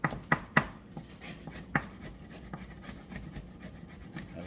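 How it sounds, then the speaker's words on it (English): A kitchen knife minces garlic finely on a board while a Jamaican local meal is cooked: a few sharp, close chops up front, then lighter, rapid tapping and scraping strokes. "I'm cutting up my garlic,"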